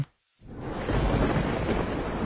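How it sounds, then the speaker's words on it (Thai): A thunderstorm sound effect with heavy rain: after a brief quiet moment, a dense, loud, steady rush of rain builds with a low rumbling undertone, and a faint high insect-like tone runs throughout. "ในคืนนั้น ฝนตกหาใหญ่"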